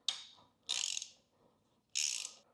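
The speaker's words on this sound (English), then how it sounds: "I think now I'm going to start loosening the bolts" A hand ratchet loosening bolts on a Ducati motorcycle front fork during a fork seal rebuild. Three close, loud bursts of rapid metallic clicking are separated by brief pauses, with no voices.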